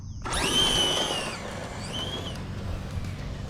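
A Traxxas Drag Slash RC car on a 3S battery runs on a gravel-strewn street: its electric motor whines up in a sharp high rising tone, then eases off and surges briefly again, heard fairly close and loud.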